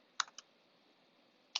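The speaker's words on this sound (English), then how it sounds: "I can type in a note here, and while I'm typing in here," Keystrokes on a keyboard while a note is typed into a ThinkHub collaboration tool: a quick cluster of two or three clicks near the start, then a long quiet gap and one more sharp click at the end.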